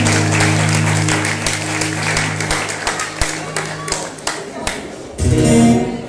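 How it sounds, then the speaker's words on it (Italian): Audience applause at a live music night, a steady wash of clapping with scattered louder claps that tapers and then swells again near the end, close and fairly loud. "un applauso, per piacere"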